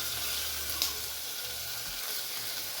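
A drumstick curry with tomato and turmeric fries in a pan, giving a steady close sizzling hiss with a faint low hum underneath and one soft clink.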